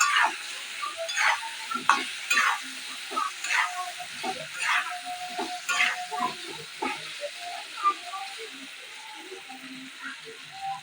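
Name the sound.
frying potatoes in a pan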